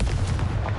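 Confringo fire spell blast in Hogwarts Legacy, a dense, booming burst that fills the short moment with low rumble, loud and close, with no speech over it.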